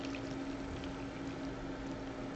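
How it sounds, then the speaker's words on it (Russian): Hot water from a freshly boiled kettle pours steadily onto Big Lunch instant noodles, a continuous soft hiss and trickle with no talking. "Наливаем горячую водичку"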